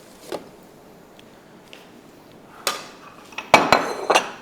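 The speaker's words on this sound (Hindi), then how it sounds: "इसमें हम ढक्कन ढाँक देते हैं।" A lid is set on a bowl holding cucumber, onion and tomato salad in a home kitchen, giving one faint tap early and then several sharp clinks and clatters close together toward the end.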